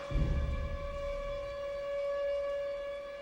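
A civil defense siren sounds for an air-raid drill, holding one steady, droning tone throughout, sounding from a distance with a low rumble at the start.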